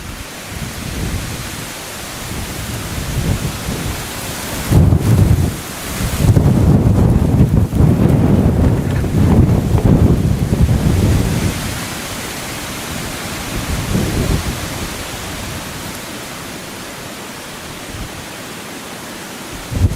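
Strong wind gusting at a reedy lake during a fishing trip, a broad roaring rush that swells into heavy buffeting gusts mid-way and then eases back to a steady blowing hiss.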